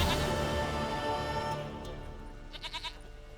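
In The Witcher 3: Wild Hunt, a goat bleats faintly amid a dense bed of game music and ambience, with a few short wavering calls near the end.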